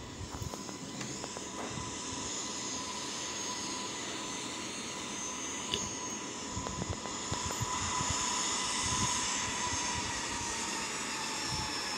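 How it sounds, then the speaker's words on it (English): An American Boeing 787-9 landing in Infinite Flight on approach in Southern California, its jet engines giving a steady, loud roar that holds evenly without a break, with no talk. "This time we are going to see my landing of American Boeing 787-9."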